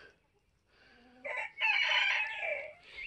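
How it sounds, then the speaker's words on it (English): Chickens settling to roost on a homestead beside a goat barn, with short clucks and a crow-like call rising from quiet to a louder, sustained burst near the middle, fairly close and with no talking. "Chickens are over here going to bed."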